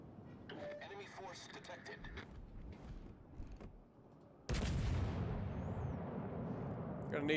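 Heavy naval gunfire in World of Warships Legends, a tier 5 ranked one-versus-one battle: a loud broadband blast erupts midway and rolls on as a sustained rumble, with earlier crackling game sounds and a voice talking over the mix.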